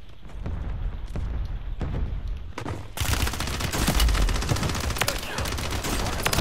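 Sustained video-game gunfire in a front-line battle, dense bursts of automatic shots that grow louder and more intense partway through, with a faint voice underneath.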